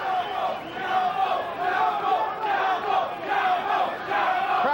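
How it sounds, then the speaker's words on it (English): A boxing arena crowd around the ring, a dense roar of many voices swelling and falling in waves, loud and continuous throughout. "Crowd around the ring, very supportive of Chapo Rosario"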